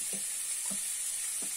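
Meat sizzles in a hot frying pan with a constant bright hiss. Three soft, low stirring or scraping touches fall at roughly even intervals underneath it.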